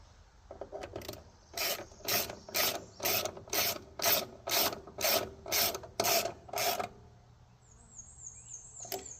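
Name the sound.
socket wrench tightening a small bolt on a sawmill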